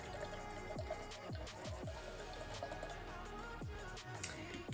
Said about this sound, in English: I'm going to pour it all in there because it's only a 250ml can.